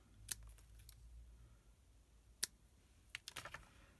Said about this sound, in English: Get it to the size you want, and let's snip it off.